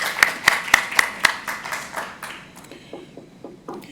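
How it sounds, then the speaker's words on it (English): Sparse applause from attendees of a weekly project meeting: a handful of sharp, evenly spaced claps up close, trailing off into scattered, fainter claps and some quiet room noise. "Let's give a round of applause for our tech speakers this week."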